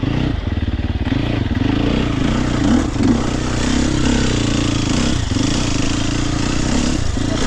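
A 2023 Sherco SEF300 dirt bike engine labors loudly and close while climbing a boulder line, a continuous throbbing drone that surges and dips with throttle changes.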